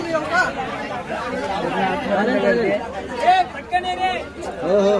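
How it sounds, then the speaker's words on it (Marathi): Dense passenger chatter fills a crowded local train carriage in the Thane–Panvel area during festival travel, many overlapping voices murmuring close and far with no single voice standing out. "ट्रेनमध्ये चढलो, गर्दी बघितली।"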